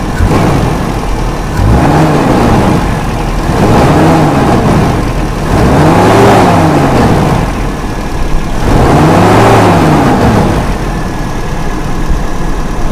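A Toyota Kijang carbureted engine revs repeatedly in steady cycles, pitch climbing and falling about every two seconds, loud and close with no talking.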